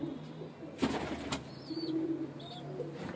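Pigeons in a breeder's loft coo with soft, low murmuring calls, joined by a brief wing flutter and some faint higher chirps, close by over a quiet room.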